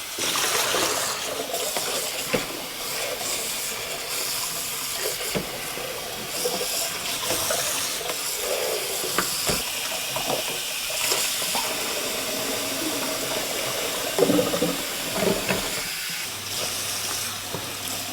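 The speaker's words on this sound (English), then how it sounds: "Just rinse this off and just rinse the outside off." Water runs steadily from a hose as a motorhome part and its outside are rinsed during sanitising of the fresh water system, a continuous hissing splash with small shifts in intensity and no talk.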